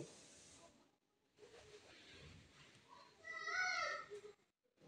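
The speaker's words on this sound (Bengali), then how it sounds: "এটা একটা খুন্তির সাহায্যে আমি 10 মিনিট ভেজে নেব" Olive pickle fries in a little oil while a spatula stirs it, giving a hissing sizzle that comes in bursts with short gaps and swells louder near the end.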